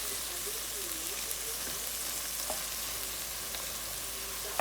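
A spoonful of tomato paste cooks in a hot pan, giving a steady, even sizzle and crackle with a few soft stirring scrapes, close and moderately quiet.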